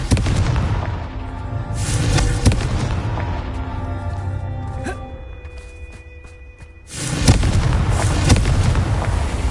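Fiery Confringo spell explosions in the Hogwarts Legacy video game: repeated loud booming blasts and crackling bursts, a quieter stretch with lingering tonal hum, then another heavy eruption of rumbling noise.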